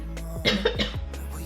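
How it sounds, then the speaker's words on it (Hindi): A few short coughs, fairly close, over a steady low hum in the background. "खांसी मेरी हजे में नहीं ठीक हुई।"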